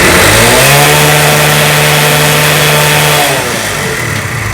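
A Mahindra Centuro motorcycle fitted with an LPG kit, its engine loud and close, held at a steady high rev with a strong droning note for about three seconds before dropping back toward idle.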